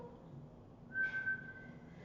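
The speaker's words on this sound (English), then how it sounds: "Blow a whistle?" A single person whistles one short steady note, faint and alone against a quiet room background, during a cranial nerve exam where the patient is asked to whistle.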